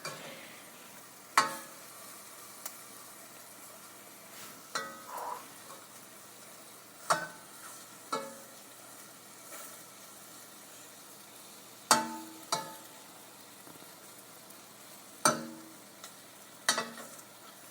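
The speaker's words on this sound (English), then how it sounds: "I'm kind of just taking the spoon and poking it into the meat, kind of stirring it around" Meat stirred with a spoon in a pot over a hot flame, a faint low sizzle under a dozen scattered scraping knocks of the spoon against the pot.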